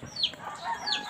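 Chickens clucking close by at a rural camp, two quick squawky calls about half a second apart over faint background noise.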